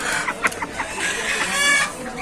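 Several chickens cluck and squawk close by at a busy poultry market, with faint voices murmuring underneath.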